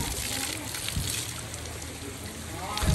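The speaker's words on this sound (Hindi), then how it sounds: "ये साइड में थोड़ा पानी है यहाँ पे" Small stream of clear drinking water trickling and sloshing in a natural spot near Tehri Garhwal, Uttarakhand, a steady close-up watery wash with a faint voice in the background.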